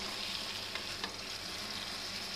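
Blended tomatoes fry in aloo curry gravy over a high flame, giving a dense, even hiss throughout with a faint stir near the middle.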